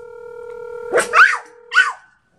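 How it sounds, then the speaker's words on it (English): A dog gives two short yelping barks close by, over a faint steady electronic hum, with a brief pause between them. "No barking."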